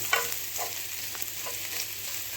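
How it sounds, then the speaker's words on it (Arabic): Minced meat filling sautéing in a pan for meat-stuffed potatoes, a soft steady sizzle broken by several scraping stirs of a spoon, close and fairly quiet. "وبعدين انا هشوح فيه حاجه بسيطه"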